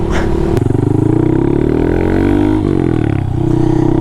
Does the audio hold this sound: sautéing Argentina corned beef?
no